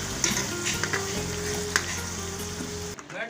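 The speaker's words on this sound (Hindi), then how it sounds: "इसमें मैं प्याज डाल रही हूँ।" Onions sizzling and frying in hot ghee in a pan, a steady dense crackle with a few sharp pops and stirring scrapes, close and loud throughout with no talking.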